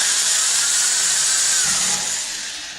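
Drilling slowly and straight into a radio-controlled airplane's structure produces a loud, close, steady high whine that runs unbroken, then tapers off slightly near the end as the bit eases off.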